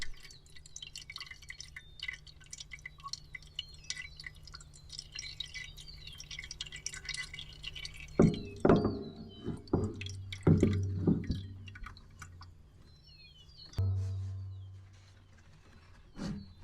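Oil drains back in a steady, close dripping trickle as a part is lifted during a 1000-hour service on a Bobcat T650 loader. A low hum runs underneath, and louder clunks and splashes come midway.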